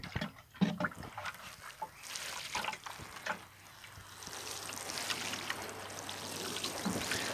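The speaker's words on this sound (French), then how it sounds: "Et bien là, il nous reste à arroser." Water splashes and trickles onto a freshly sown row of spinach seeds in a vegetable garden, soft pattering bursts that settle into a steady gentle stream, fairly quiet and close.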